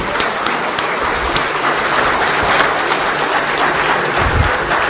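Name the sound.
thundering audience applause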